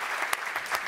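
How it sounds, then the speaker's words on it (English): Brief audience applause at a personal branding session, light scattered claps that are fairly faint and end almost as soon as they begin. "Give him a round of applause."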